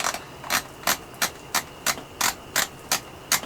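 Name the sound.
screwing on Winchester SX4 shotgun magazine cap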